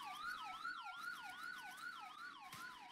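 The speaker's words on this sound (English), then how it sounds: "The ambulance is just driven past." Ambulance siren in the Roblox game Emergency Response Liberty County, a rapid rising-and-falling wail repeating about twice a second, fairly faint and steady as it passes, with no voices.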